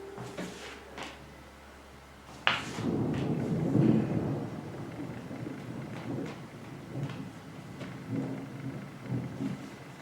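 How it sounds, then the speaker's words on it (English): A single rumble of thunder rolls in after a sharp crack, then lingers as a low, moderately distant grumble fading over several seconds, with faint room noise and no talking. "Can you hear the thunder?"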